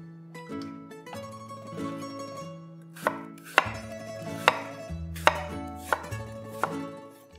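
A knife slicing apples for pie filling on a cutting board, a series of crisp chopping knocks in an uneven rhythm over faint background music.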